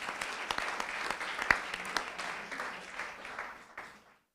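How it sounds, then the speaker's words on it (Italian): An audience applauds at a craft and artisan event in Venice, a burst of many hands clapping with a few sharper claps standing out, then gradually thinning and fading to silence. "Grazie ancora Gloria, un altro applauso."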